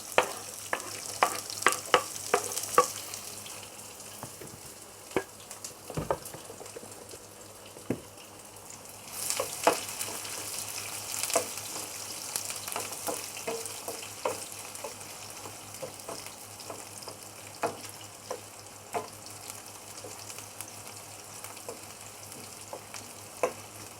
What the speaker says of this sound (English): Okay, the garlic, ginger, and shallot. Stir fry first.